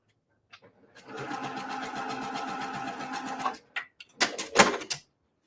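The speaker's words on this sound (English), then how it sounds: "So I'm going to sew on the line" A sewing machine runs in a steady, rapid stitching burst for a couple of seconds, then stops; a few clicks and handling noises follow.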